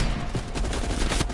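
Gunfire in the Call of Duty Cold War campaign, a sniper rifle firing from a ridge to cover pinned-down allies: loud, close shots that blur into a dense, continuous barrage, with no voices.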